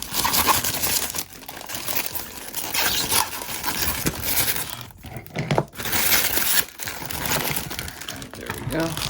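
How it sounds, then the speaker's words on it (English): Plastic packaging being unwrapped from a G.I. Joe Classified Stinger 4-WD toy vehicle, with continuous close crinkling and crackling of plastic film punctuated by sharper tearing rustles and brief pauses. "So we gotta unwrap all this plastic around it, which is always nice, keeps it safe."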